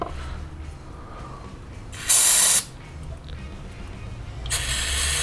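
Two short hissing bursts of carburetor cleaner spray on a Yamaha V Star 650 carburetor, the first brief and loud, the second starting near the end, over a quiet mechanical background.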